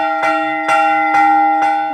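Church bells struck by hand, four evenly spaced clear strikes with long ringing tones that overlap, loud and close, no voices.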